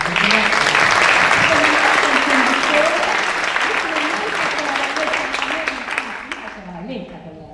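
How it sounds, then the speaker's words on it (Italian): Warm applause from a gala audience at a Paralympic sports awards night, loud at first and gradually thinning out, with voices carrying over the clapping. "possiamo fare un super applauso"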